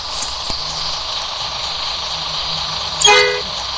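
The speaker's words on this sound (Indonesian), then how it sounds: "Kita coba suara klakson." Bus horn in the game Bus Simulator Indonesia gives one short, loud toot near the end, over a steady engine hum that runs throughout.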